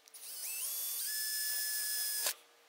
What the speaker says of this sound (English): Next step is we just drill a small hole, a 1/4 inch hole at the end of the handle here.